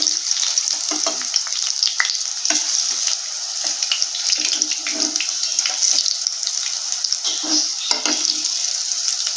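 Lentil vadas (paruppu urundai) fry in hot oil with a steady, close sizzling hiss, scattered pops and crackles running through it without pause.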